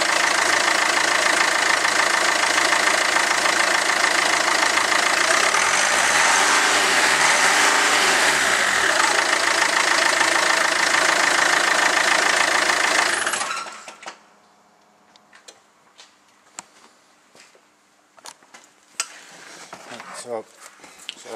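An engine on a common rail tester runs loud and steady for about thirteen seconds, then cuts off abruptly, leaving quiet clicks and handling sounds with some talking.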